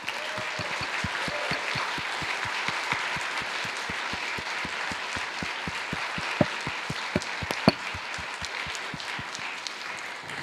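An audience applauds student volunteers at a conference keynote, with steady, dense clapping throughout and a few sharper individual claps standing out near the end.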